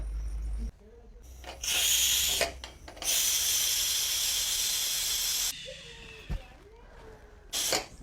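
Pressure cooker whistle hissing loud steam in long bursts, with shorter spurts and pauses between, close by and dominating the scene.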